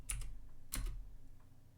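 Typing on a computer keyboard: two short bursts of quick key clicks, close and fairly quiet, over a low background hum.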